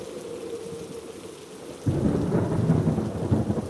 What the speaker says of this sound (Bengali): যেমন ঝড় তেমনি বৃষ্টি, তার আর বিরাম নেই।